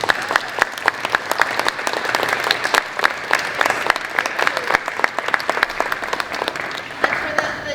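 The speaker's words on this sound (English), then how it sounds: "Guys, can we have a round of applause for the fan questions" Audience applause at a Marvel Rivals cast panel at the SoCal Game Expo, dense crisp clapping from a sizable crowd that continues steadily for nearly eight seconds, with individual sharp claps standing out near the front.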